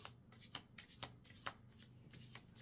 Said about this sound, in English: we're going to go ahead and shuffle.